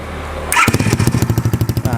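A mini trail motorcycle with a four-stroke automatic engine and a flooded carburetor, choke raised, fires up after a brief starter whirr and settles into a loud, close, rapidly pulsing idle.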